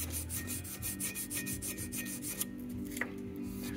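Sandpaper scrubbing built-up grease off the dial slider of a 1946 Bendix AM radio, a steady close rubbing rasp in quick back-and-forth strokes that fades out partway, followed by a couple of small clicks.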